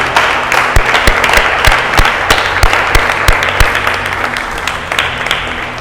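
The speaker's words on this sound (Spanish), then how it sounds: "Dale un aplauso al Señor porque Él es bueno" Congregation at a church discipleship service applauding the Lord, loud dense clapping with sharp individual claps standing out near the microphone, continuous throughout before tapering slightly.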